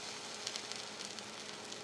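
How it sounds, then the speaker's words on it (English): Freshly boiled bagels sizzling on a hot baking steel just pulled from the oven, a soft, steady hiss with faint crackles and pops, heard close but quiet. "Nice little sizzle and get that moisture out."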